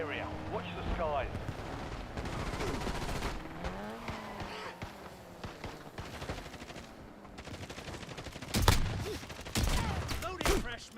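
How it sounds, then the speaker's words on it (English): Gunfire in a battle-royale shooter video game, repeated shots and bursts across the clip, with a loud close burst near the end, under music and voice chatter. "Somebody's shooting from behind me."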